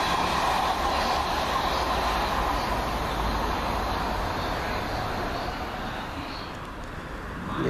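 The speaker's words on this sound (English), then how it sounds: "Here comes our train." A South Western Railway train pulls into Swaythling station with a steady, loud rumble of wheels and engine that fades slightly toward the end, heard close by with no talk.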